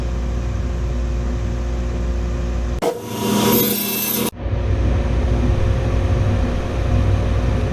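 A table saw cuts the angled edge of a small wooden box at a 5-degree miter: one loud, steady rip lasting about a second and a half, alone between quiet stretches of motor hum.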